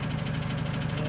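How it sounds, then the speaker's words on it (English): A tractor engine idles with a steady, throbbing low rumble up close while its bucket rolls over to dump a pan, with a person talking over it. "So I'm going to take the bucket of the tractor and roll it over so I can take the poop pan"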